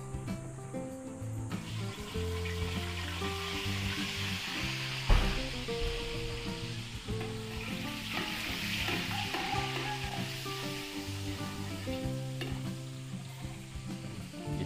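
Oil and margarine sizzle in a heated pan in a Filipino home kitchen, a continuous crackling fry with a brief knock near the middle, beneath steady background tones.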